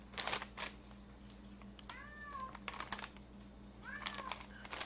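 A cat meows twice nearby in a kitchen, short rising-falling calls over crinkling snack packaging and light clicking sounds.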